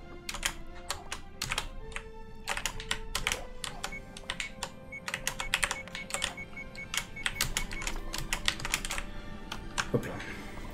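Rapid computer keyboard key presses in irregular bursts, close and crisp, during a cooperative Overcooked cooking game session, with a steady low background hum underneath.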